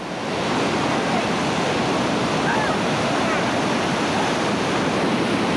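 Steady roar of whitewater rapids on the Lower New River in West Virginia, a dense, continuous rush of churning water close by with no breaks, as a raft runs through reactionary waves.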